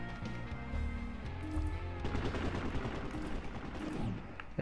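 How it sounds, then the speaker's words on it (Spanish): Gunfire in the PlanetSide 2 video game on PS4, rapid bursts of automatic shots and sharp cracks, dense and fairly close, running throughout with heavy low rumble beneath. "Estoy escuchando tiros."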